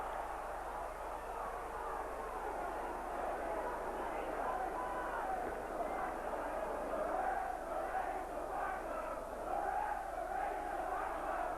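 Football crowd at a Swindon Town vs Hull City match, a continuous distant roar of voices that swells slightly near the end, with a commentator talking over it.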